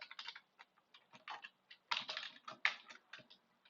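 Computer keyboard typing at a console, a run of quick irregular key clicks in bursts with brief pauses, close and moderately loud, no voices.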